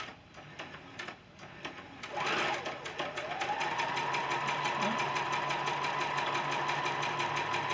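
A sewing machine starts up after a few quiet seconds and runs in a steady, continuous whir while stitching a beginner's sampler quilt block, close and clear to the end.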